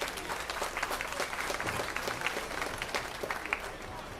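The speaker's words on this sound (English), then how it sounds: "let's give all these exhibitors a big round of applause" A crowd claps for exhibitors at a youth swine market show in a show arena, producing sustained, dense applause with a few sharper claps standing out and some voices mixed in.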